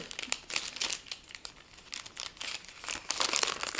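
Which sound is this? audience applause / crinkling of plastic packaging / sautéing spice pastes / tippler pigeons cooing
crinkling of plastic packaging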